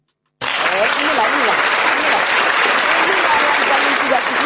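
Dense, loud audience applause erupts abruptly during a religious sermon and then holds steady as a continuous wash of clapping, with no talk over it.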